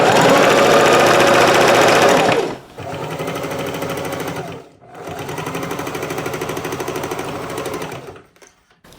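Sewing machine stitching a fabric sewing machine cover, running in loud continuous bursts, a long run, a pause, then another steady run before stopping.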